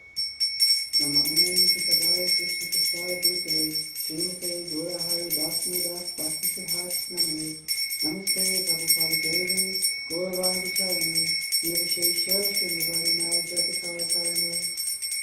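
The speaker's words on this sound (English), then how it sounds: "Ring the bell while you say the prayers." A hand bell is rung continuously during Hindu prayers at a Sunday satsang gathering. Its steady bright ringing runs throughout, beneath chanting voices.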